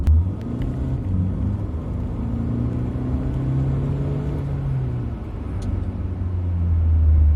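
A Hyundai Accent Blue 1.6 CRDi 136 HP engine rumbles and pulls under load uphill, its drone rising and falling in pitch as the car accelerates steadily, heard from inside the cabin.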